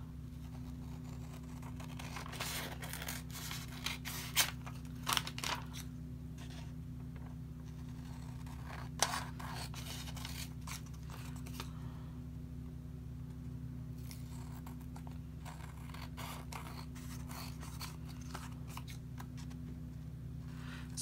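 Scissors trim dictionary-page paper for a junk journal envelope pocket, giving a series of quiet, irregular snips and rustles over a steady low hum, with pauses between cuts.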